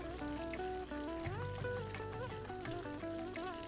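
Mustard seeds, a little fenugreek, curry leaves and onion fry in hot oil with a steady sizzle for a Kerala fish curry, under continuous background music.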